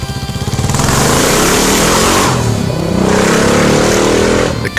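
A Kawasaki KLR650 dual-sport motorcycle engine from the 1990s revs loudly and close by, a dense, steady roar that swells and eases for about five seconds before cutting off.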